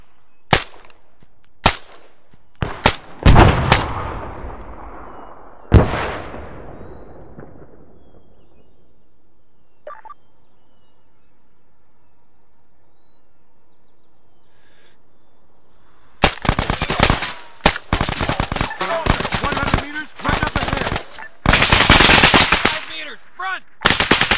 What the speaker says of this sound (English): Cover and fire!